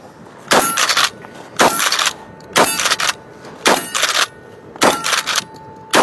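A pump shotgun fires five loud, booming blasts about a second apart, each with a ringing, clanging tail.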